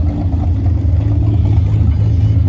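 A Co-op V4 tractor engine runs steadily at a steam show, giving a continuous low, rumbling drone with no breaks across the clip.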